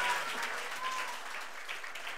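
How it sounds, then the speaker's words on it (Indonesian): Congregation at an Indonesian church service claps in sustained applause that carries at moderate distance and stays fairly even throughout. "Beri tepuk tangan bagi dia."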